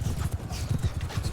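Horse hooves in the Mount and Blade Bannerlord video game, a rapid rhythmic clip-clop of galloping at close range, repeating evenly for about a second.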